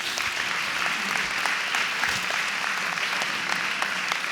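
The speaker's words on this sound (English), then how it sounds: "Give Daniel a round of applause" Applause from a crowd at an elementary school ribbon cutting ceremony, a dense, steady wash of many hands clapping at fairly close range with no talk over it.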